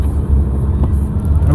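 A Toyota Corolla slides sideways across snow, its engine a loud, close, steady low rumble that holds without a break through the short stretch.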